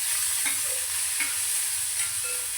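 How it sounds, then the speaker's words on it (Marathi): Finely chopped onion and tomato are stirred in a sizzling pan, with a constant loud frying hiss and a few regular spoon strokes scraping through roughly every three-quarters of a second. "आपण नीट हलवून घेऊया आणि आता इथे आपण दोन ते तीन मिनटं नीट शिजवून घेणार आहोत कांद्या आणि टमाट्याला"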